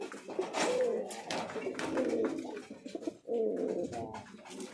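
White fantail pigeons coo steadily inside a loft, a nesting pair sitting on eggs, with repeated close, throaty cooing phrases running throughout.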